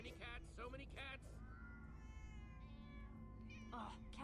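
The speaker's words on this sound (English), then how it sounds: "Oh, many cats. So many cats." Several cats meow repeatedly in the Minecraft Story Mode game, their high wavering cries rising over a dense backdrop of game sound and a voice speaking between them.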